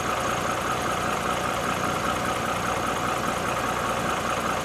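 A car engine runs at idle, a steady, even mechanical hum with a constant drone throughout and no voices over it.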